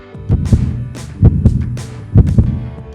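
Heartbeat sound effect, deep low thumps in paired lub-dub beats repeating at a steady rhythm, loud and close, with no other sound around them.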